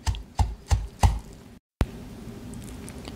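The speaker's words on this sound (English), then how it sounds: "And then you chop it up again." A knife chopping garlic and mi sua noodles on a board for chap chia soup: four firm, evenly spaced thuds, a brief silence, then one more strike, close and with no voices.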